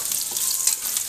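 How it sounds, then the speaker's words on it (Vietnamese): Potatoes for curry sizzle briskly in hot oil in a pan. The frying hiss is close and steady through the short stretch, with faint stirring and no voices. "Mình có cà ri mình chiên khoai sơ nó cho nó ngon."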